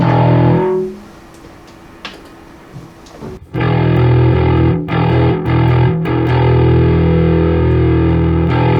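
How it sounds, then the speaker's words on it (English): A bass guitar note rings out, fades, then the bass with a distortion effect plays sustained, buzzy notes with brief breaks between them, loud and close. "I want to see how that sounds with the distortion on."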